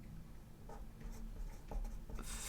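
A pen writes in a Classic Happy Planner, making soft, close scratching strokes in short bursts, quiet and alone.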